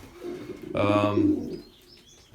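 Young racing pigeons cooing inside a loft, a soft rolling coo rising in the middle of the clip, fairly close, with quieter chirps and faint room noise around it.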